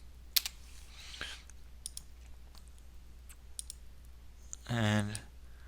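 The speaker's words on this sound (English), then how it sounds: "I'm going to type in the words down tube" Several light, scattered clicks of computer keyboard typing, quiet and irregular, followed by a short louder tonal burst near the end.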